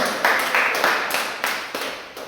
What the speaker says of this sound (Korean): 우리 함께 감사 박수하겠습니다